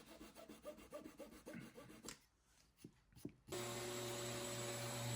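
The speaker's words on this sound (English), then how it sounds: "So I'm just flush trimming it off here." Rhythmic back-and-forth rasping strokes of a hand saw flush trimming wooden plugs, close and clear, followed by a few knocks and then a steady whining sander.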